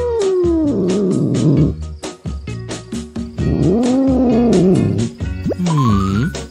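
A cat meows and caterwauls loudly and close by in long, wavering, drawn-out cries, several in a row with short breaks between them.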